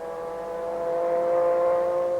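An MG Metro 6R4 race car sweeps sideways through Ferodo corner at the Birmingham Superprix street circuit, a steady rising engine whine growing louder over a couple of seconds, with no voices over it.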